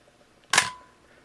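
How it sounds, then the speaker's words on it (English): A Yashica FR II camera shutter fires once, pointed into the light at about f/16: a single sharp mechanical snap followed by a short fading ring, close and clear against a quiet background. "We're going to point it into the light and fire the shutter."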